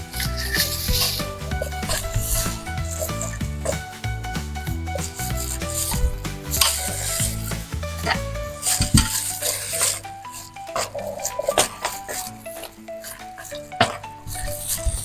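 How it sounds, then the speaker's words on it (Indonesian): Snapper fish dough for pempek is stirred in a bowl with rhythmic rubbing and scraping strokes, a close, steady rasp of utensil against dough and bowl throughout. "Kita aduk sampai rata."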